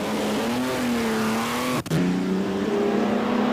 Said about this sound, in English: a look at R4D, perhaps the fastest ERA ever built, seen here at the Goodwood Festival of Speed in the hands of John Harper.